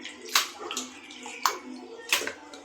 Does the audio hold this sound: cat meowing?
no